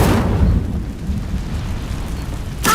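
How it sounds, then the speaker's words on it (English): An Incendio fire spell cast in the Hogwarts Legacy video game bursts out as a low, rumbling whoosh that carries steadily through the moment and flares again with a brighter crackle at the very end. No voices are present. "Incendio."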